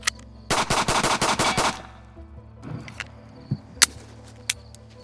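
A small .380 pistol fired in a quick string of about seven sharp, loud shots in under two seconds, followed by quieter handling sounds and a few isolated clicks and thumps.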